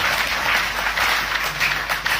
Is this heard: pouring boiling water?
no